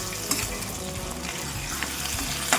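Boiled potato pieces fry in hot oil with a continuous sizzle while a spoon stirs through them, giving a few scraping clicks against the pan; no voices.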